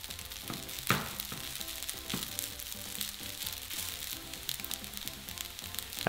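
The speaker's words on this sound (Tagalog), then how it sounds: "At itutuloy ko lang ang pagsangag ng mga 3 hanggang 5 minuto pa" Garlic fried rice (sinangag) with salt sizzles and crackles in a hot pan, close and continuous, with repeated stirring scrapes and one sharper clatter near the start, no voices.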